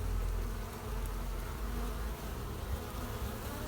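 Honeybees buzz steadily at a homestead hive entrance, with drones among the workers and foragers carrying pollen in, a dense continuous hum close by with no talk.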